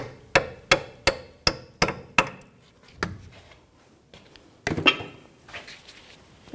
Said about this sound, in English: I just take a little hammer and I tap it down